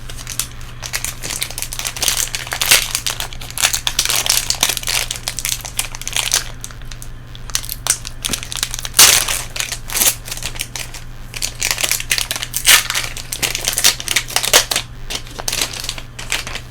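Foil wrappers of Magic: The Gathering Brothers' War collector booster packs crinkle and tear open up close, a steady run of crumpling and rustling with a sharp rip near the middle, with no talking.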